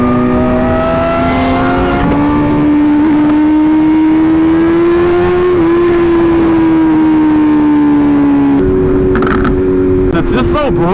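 A Lamborghini supercar cruising, its engine a loud, steady droning tone that rises gradually, then gives way to a quick burst of crackling exhaust pops near the end, heard close with voices talking over it.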